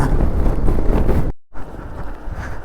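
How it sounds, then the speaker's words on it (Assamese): Strong wind buffets the microphone on the cold ride up to Sela Pass at 13,700 ft in Arunachal Pradesh: a loud, continuous roaring rush that cuts out briefly midway, then resumes. "সিমানেই ঠাণ্ডাটো বেছি লাগি আহি আছে আৰু বতাহটো বেছি মাৰি আছে"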